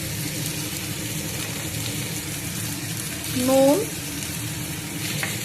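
Crabs fry in a pan with ginger and garlic paste and green chillies, a continuous moderate sizzle with a short clatter midway, while someone speaks briefly.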